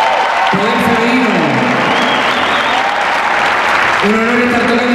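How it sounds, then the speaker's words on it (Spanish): A concert crowd at a blues show claps and cheers in a dense, continuous wash, with voices and sustained tones from the stage and room cutting through the applause at the start and again near the end. "¡Fuerte el aplauso!"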